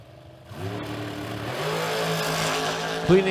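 Dragsters, including an M&M chassis dragster, launching down a drag strip; engines roar up and build into a sustained rising howl after a brief quiet start, with a sharp higher engine burst near the end.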